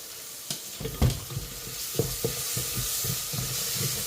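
Ginger paste frying in a pan at a food service kitchen in Paris, a steady close sizzle with repeated stirring scrapes and clunks of a spoon against the pan.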